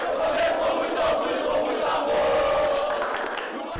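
Organized football supporters in Manaus shout and chant in a dense, energetic crowd din as the Flamengo team and its opponent arrive, with voices rising and falling throughout.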